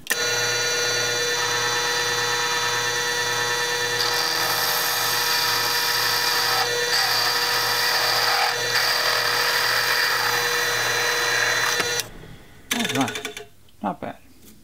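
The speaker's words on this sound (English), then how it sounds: "So let's find the size of this and drill through that cap." A power drill with a 7/8 bit bores through a cap, a loud steady whine running for about twelve seconds before stopping, followed by a few brief handling clatters.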